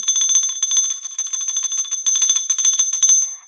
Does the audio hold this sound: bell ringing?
yes